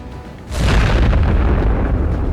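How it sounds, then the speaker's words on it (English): Missile striking an armoured vehicle on a battlefield, ammunition detonating in one loud, deep explosion that erupts suddenly and rumbles on without speech. "The missile hits the target, causing ammo to detonate."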